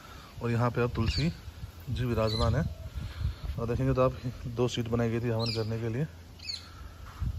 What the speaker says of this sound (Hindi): तोते बोल रहे हैं, तोतों की आवाज़ आपको आ रही होगी